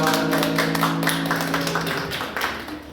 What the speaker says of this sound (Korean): 우리 함께 감사 박수하겠습니다.